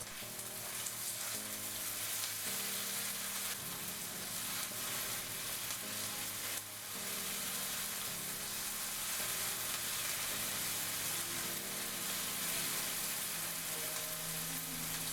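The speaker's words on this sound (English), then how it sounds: "Now I'm adding the tomato paste. Give it a good stir so it cooks for about a minute." Tomato paste sizzles and fries steadily in a pot while being stirred, a close, continuous crackle with soft scraping and shifting as the spoon moves through it.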